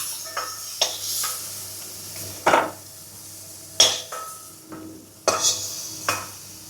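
Prawns frying in a pan, with a light background sizzle broken by several sharp metallic clinks and scrapes of a utensil against the pan at irregular intervals.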